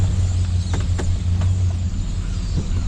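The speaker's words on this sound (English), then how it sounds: "hit the gas pretty good and slam on the brakes, see if I can get the truck to shake" A truck engine hums and idles low and steady while backing a trailer at a landfill, a loud continuous drone with a few faint clicks and knocks.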